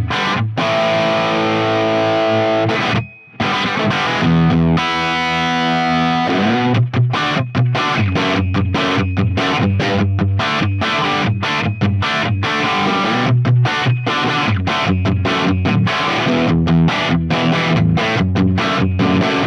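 Electric guitar run through a Fractal Audio Axe-FX II on its Marshall 800 amp model, heavily distorted and loud, with steady chugging rhythmic riffs and brief stops, playing alone without voices.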